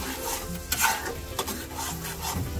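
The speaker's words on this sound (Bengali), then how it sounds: "ব্লেন্ডার করা পেঁয়াজ আর কাঁচামরিচ ভালো করে এখন ভেজে নেব" Blended onion and green chili fry in oil while a spoon stirs and scrapes the pan, giving a steady sizzle broken by a few sharper scraping strokes, with no talk.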